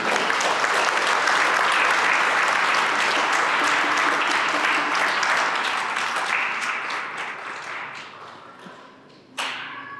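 Wedding guests at a church ceremony break into loud, sustained applause for the newly married couple, a thick wash of clapping that gradually thins and fades, ending with a sharp knock.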